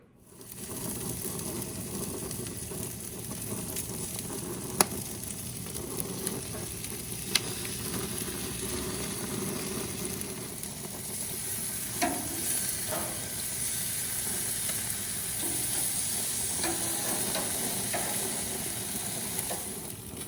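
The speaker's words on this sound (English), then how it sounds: "really all we're doing right now is getting those great sear marks on it" Cooked ribs coated in barbecue sauce sear on a grill with a steady hissing sizzle, and a few faint clicks and scrapes sound over it.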